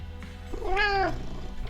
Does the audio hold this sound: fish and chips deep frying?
no